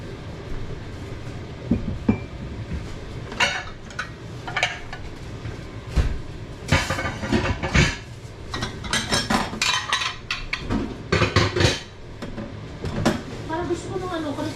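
Dishes and cutlery clink and clatter in scattered bursts while people talk nearby, with a steady background rumble.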